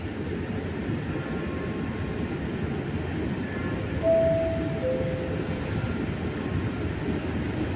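A train passes through Padova station on track 5 with a loud, steady low rumble of rolling wheels and a brief high tonal squeal partway through, with no talk.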